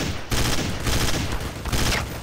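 Loud, dense gunfire in Counter-Strike: Source, a continuous rattle of shots across the clip with a short break early on and heavier bursts later.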